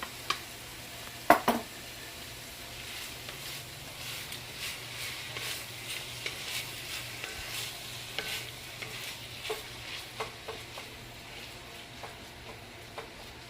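Canned diced tomatoes and garlic are stirred in a pan with a soft, continuous sizzle, broken by repeated light scrapes and knocks of the utensil, with no talk.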